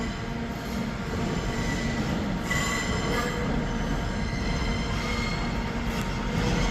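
A Class 720 electric train rolls through Birmingham New Street station with a loud, steady rumble and high wheel squeals rising and falling over the whole stretch.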